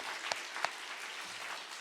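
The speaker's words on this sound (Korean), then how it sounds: "우리 부활의 예수님께 찬양과 영광의 박수를 한번 올려드리겠습니다" A church congregation in Korea applauding the risen Jesus at an Easter worship service, a quiet, distant wash of clapping with a couple of sharper nearby claps early in the brief burst.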